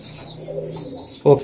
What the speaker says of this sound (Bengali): এই যে একটা কবুতর আমি দেখাই